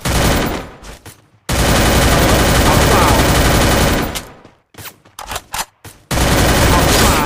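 Video game gunfire comes in long, loud bursts of rapid automatic shots, broken by short silences and a few quick single shots, while a voice talks over the action.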